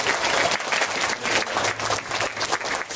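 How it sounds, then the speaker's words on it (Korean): Audience applause for God at a children's revival church service, a steady dense wash of many clapping hands filling the room for three seconds without a break. "우리 하나님께 감사의 박수를 한번 드리겠습니다"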